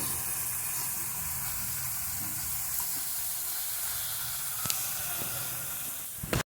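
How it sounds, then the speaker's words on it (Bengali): A cauliflower-stuffed paratha fries in a pan over low heat, giving a soft, steady sizzle and hiss throughout, ending with a brief clatter. "পরোটা ভাজছি, তোমার হালকা আছে কমিয়ে দিয়ে ভাজছি"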